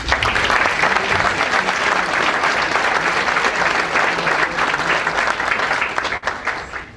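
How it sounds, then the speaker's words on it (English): A large crowd at a Winnipeg Chamber of Commerce event gives sustained, vigorous applause for the sponsors, a thick, even roar of clapping that dips only briefly near the end. "Everyone, please join me in a round of applause for today's sponsors."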